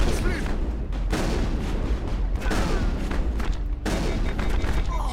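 Shotgun blasts in the video game Mass Effect, loud booming shots repeating across the stretch amid dense game noise and rumble, with someone talking in French over the action.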